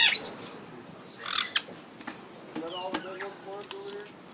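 A tropical pet bird squawks indoors with harsh calls and short chattery bursts, close and intermittent, and a voice that may be the bird mimicking speech comes in near the end.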